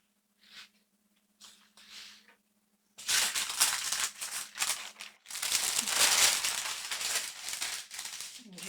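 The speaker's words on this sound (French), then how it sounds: "Je prépare mon papier sulfurisé." Parchment paper is handled for heat-transfer flex crafting, with a few soft crinkles at first and then a sustained, loud rustling and crumpling close by, with no talk.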